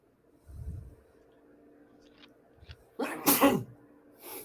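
A sharp, loud sneeze bursts out near the end of a quiet moment at a tabletop Dungeons & Dragons game session, preceded by a faint low sniff and a soft rustle.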